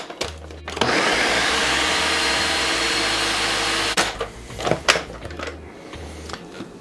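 Food processor whirs for about three seconds as it mixes farmers cheese with a pinch of salt and a spoonful of whey, then stops, followed by a few clunks and bumps from handling the machine; no speech.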